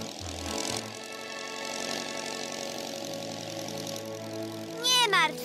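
Cartoon aircraft engines running in Masha and the Bear, a steady mid-pitched motor hum under a voice, with a sharp warbling whistle near the end.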